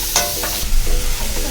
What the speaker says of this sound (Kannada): ಈರುಳ್ಳಿ ಚೆನ್ನಾಗಿ ಫ್ರೈ ಆಗೋ ತನಕ ಸ್ವಲ್ಪ ಗ್ಯಾಸಲ್ಲಿ ಫ್ರೈ ಮಾಡಿ.